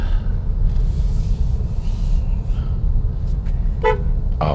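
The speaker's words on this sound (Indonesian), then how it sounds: "Klaksonnya juga." Short horn toots from a Wuling Cloud EV, brief bursts near the end over a steady low rumble of cabin or road noise.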